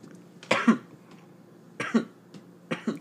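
Three separate coughs are heard, each a sharp, close burst with a rough throaty tail, spaced over a few seconds of quiet room sound, with no talking.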